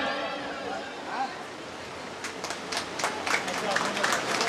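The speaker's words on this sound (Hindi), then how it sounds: "आप लोग जोरदार ताली बजाएं" At a blood donation camp, after a voice speaks over background noise, a crowd breaks into scattered clapping that builds into steady applause.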